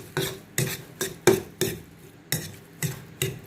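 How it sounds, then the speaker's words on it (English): A spoon stirring spices into a wet rub for pork in a bowl, seven evenly spaced scraping knocks against the side of the dish, close and crisp. "we're just going to give this a quick mix to get everything incorporated"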